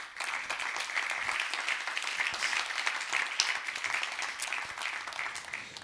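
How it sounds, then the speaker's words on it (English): An audience at a computing company presentation breaks into steady applause, a sustained wash of many hands clapping that is fairly soft and distant, with no talking over it. "that deserves a round of applause"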